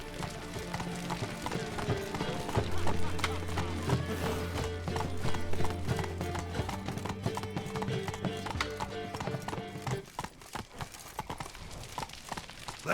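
Horse hooves clip-clop at a steady trot in The Witcher 3, close and continuous beneath a sustained low musical drone, thinning toward the end.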